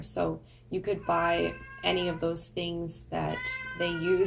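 A pet cat meows repeatedly, loud and close, during a home felt-crafting session, its cries mixing with a person talking over them.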